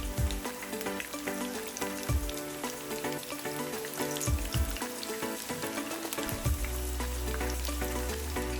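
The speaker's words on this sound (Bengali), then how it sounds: "চিকেনের এক পিঠ ভালো করে ভেজে নিব 3 থেকে 4 মিনিট, তারপরে আরেক পিঠ ভেজে নিব।" Lightly coated chicken pieces fry in hot oil in a wok, a dense, steady sizzle with crackling spatters, close and loud, with no voices.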